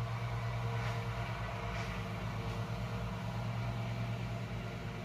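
Outdoors a lawnmower engine keeps up a continuous low, buzzing hum at a distance, even and unbroken throughout.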